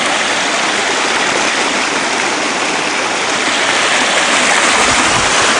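Water flows steadily into a backyard pond as a continuous close rush, like a small stream or waterfall, with no voices.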